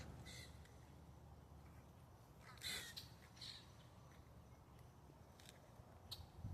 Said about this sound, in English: The blackbirds following.